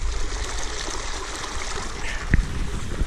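Clean treated water flows out of a sewage treatment plant outfall in Santa Eulalia, a steady stream with a trickling rush that continues throughout, with one brief splash or knock near the end.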